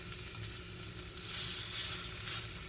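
Steady crackling sizzle of chicken strips frying in a hot pan, close up and continuous with no talking.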